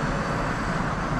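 Electric motor whine from a Smart electric drive city car while driving, a steady close high-pitched hiss and hum running continuously with road noise, no talking.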